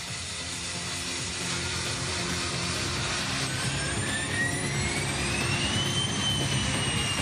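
Private jet departing Olavarría, a continuous jet engine roar with a rising whine that climbs in pitch as the aircraft accelerates away, steady and moderately loud with no talking.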